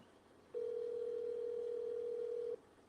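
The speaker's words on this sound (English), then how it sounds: "Sneaky Link ain't even picking up the phone." An unanswered phone call's ringback tone sounds as a single steady, mid-pitched electronic tone lasting about two seconds, clear and alone over a faint background hiss.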